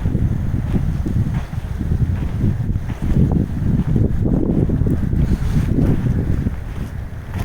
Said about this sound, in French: Et il y a beaucoup de vent.